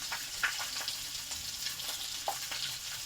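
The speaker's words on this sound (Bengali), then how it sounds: "খুব সুন্দর করে ভাজা ভাজা হয়ে গেল মাছের মাথাটা।" A rohu fish head fries in a pan with a soft, steady sizzle and a few small crackles and pops, fairly quiet throughout.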